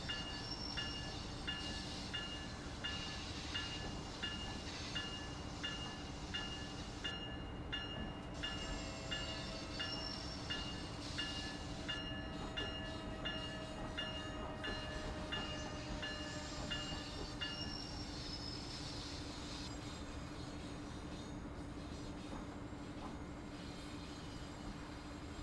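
An Amtrak train running in Train Sim World, a steady loud rumble with a constant low drone and faint rail clatter throughout, tonal whines rising and falling over it.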